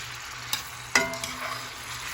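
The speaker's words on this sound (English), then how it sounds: "We're going to let this fry up for about 30 minutes." Chicken frying in a pan for fajitas, a steady close sizzle with a couple of sharp utensil clinks or stirs partway through.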